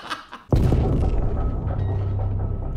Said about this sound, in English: When in doubt, just shoot a missile at it.